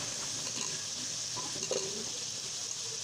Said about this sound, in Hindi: इसमें आलू डाल के थोड़ा सा इसको भूनते हैं।